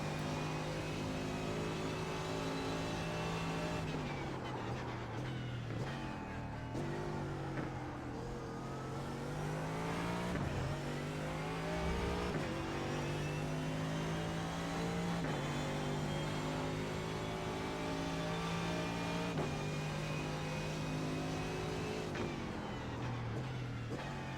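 A Porsche GTE-class race car roars around a track, its engine note loud and sustained throughout with rising and falling revs as it accelerates and shifts, heard alone without voices.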